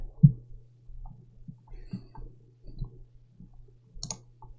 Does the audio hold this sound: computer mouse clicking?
yes